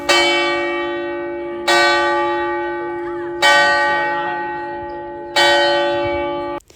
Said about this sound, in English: when that bell went off, everyone had the same reaction